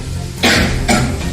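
Two sharp, close coughs from a person, a strong one followed by a second a moment later, over a low background hum.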